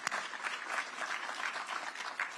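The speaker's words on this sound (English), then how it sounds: "So let's give him a round of applause." An audience at a student oratory competition applauds, a dense crackle of clapping hands with small pulses in intensity, steady throughout and no voices over it.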